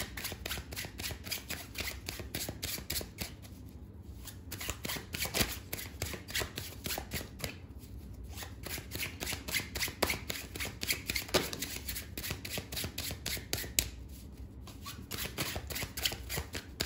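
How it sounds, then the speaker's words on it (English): Tarot cards being shuffled repeatedly, a steady papery riffling and flicking that runs continuously, close and moderately loud, with no talking. "Last shuffle."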